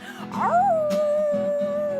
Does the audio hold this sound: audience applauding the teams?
no